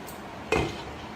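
A lid set down on a pot of mochai (field bean) gravy in a home kitchen gives one short clinking metallic knock, close and fairly soft, with no voices.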